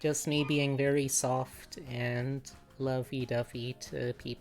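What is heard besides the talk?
None of the usual background noises is heard.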